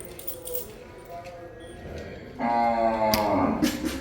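Buffaloes on a farm lowing, a faint low call early on followed by a loud, close, drawn-out moo in the latter half, with someone speaking nearby.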